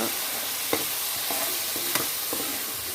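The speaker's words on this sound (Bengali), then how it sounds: "আপনি মশলাটাকে যতক্ষণ ভাজবেন ততক্ষণ পর্যন্ত" Chicken masala frying and stirred in a pan, a constant close sizzle with a few scraping spatula strokes at irregular intervals, no voices.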